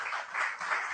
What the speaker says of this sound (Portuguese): E eu pediria uma salva de palmas para o prefeito